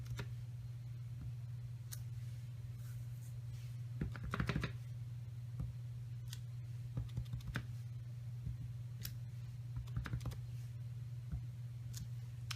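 A rubber stamp is pressed onto paper and cardstock in scattered soft taps and clacks, some in quick clusters, faint and close over a steady low hum.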